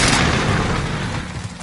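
Video game gunfire aimed at the player lands as one loud, dense burst of booming shots that fades over a second or so, close and without talk.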